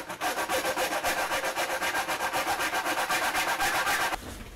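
An old hand file rasps steadily and rhythmically, widening an opening on a Hackintosh computer build, with quick even strokes running loud and close for about four seconds before stopping abruptly.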